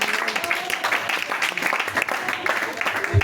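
A church congregation claps and calls out in acclamation during a French-language teaching service on faith, a steady dense wash of applause mixed with voices throughout.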